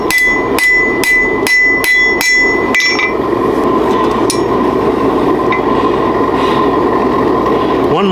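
A blacksmith's hammer strikes hot steel while tapering a chisel, a rapid series of about eight sharp, ringing blows in the first three seconds, then a single lighter tap and a steady background hum.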